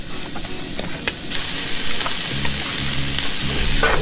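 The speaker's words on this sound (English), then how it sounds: "we're gonna let that sizzle just for a little bit, then we'll throw in some oil" Mushrooms sizzle in a pan with oil and butter, giving a steady loud frying hiss with bursts of crackle and occasional stirring scrapes, close up and with no voices.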